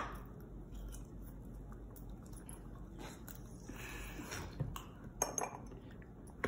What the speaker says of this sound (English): you can add your ice cubes.